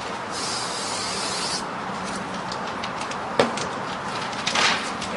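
Spray adhesive hisses from a can along the top edge of a panel during bedbug-proofing work, a long steady spray near the mic followed by a couple of shorter bursts, with no talking.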